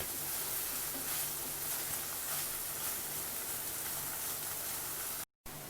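Paneer with poppy seeds frying in a pan while being stirred: a steady, dense sizzle with soft scraping, close and even throughout, ending in a brief silence.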